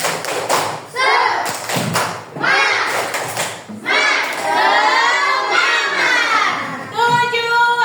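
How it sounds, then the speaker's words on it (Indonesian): An Indonesian class of children does a 'tepuk semangat' spirit clap, crisp patterned claps and thumps mixed with energetic shouted chanting from the whole group, loud and close. "Tepuk semangat"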